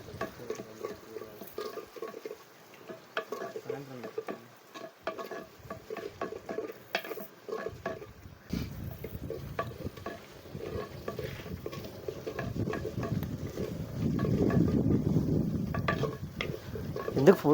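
Onions fry in a clay pot at a festive outdoor cookout for Ugadi, with soft sizzling and scraping stirs that grow louder and denser toward the end, quiet voices faintly in the background.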